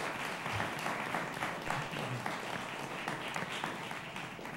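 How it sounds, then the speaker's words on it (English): Audience at a city commission candidates' debate in Kissimmee breaks into sustained applause, a dense, even wash of clapping from a moderately sized crowd, heard at a distance and fairly quiet throughout. "let's have a big round of applause for all of our candidates for being here today."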